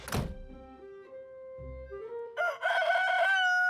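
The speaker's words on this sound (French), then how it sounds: "Depuis quand il y a un coq dans la cité de la Grande Pomme?" A cartoon rooster crows once, a loud rising and falling harmonic call that follows a sharp thunk and a brief low thump, standing clear with no talk over it.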